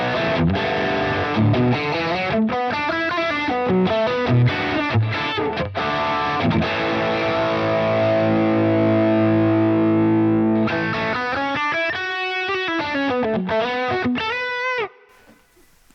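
Overdriven electric guitar played through a Boss Blues Driver pedal, loud and continuous, with sustained crunchy chords and riffing that runs for about fifteen seconds before cutting off near the end.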